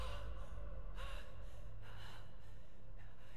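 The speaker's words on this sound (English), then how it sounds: "we hear her gasp for air" A woman in the video game Returnal gasps for air, a few breathy inhalations that come and go against a low, steady background rumble.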